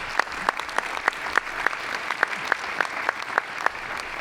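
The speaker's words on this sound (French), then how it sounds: "que vous pouvez applaudir" Applause from the audience at a regional French associations' assembly plenary, with steady rhythmic clapping in unison, moderately loud and even across the room, with no talk over it.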